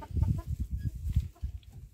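Several hens clucking softly in low, repeated bursts on a rural farmstead, close by and fairly quiet.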